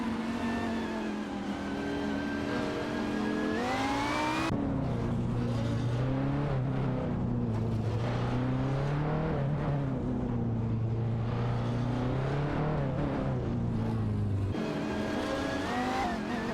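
Race cars in a video game, a Maserati MC12 among them, roar loudly and continuously, with engines rising and falling in pitch through gear changes, plus tire squeal and skidding.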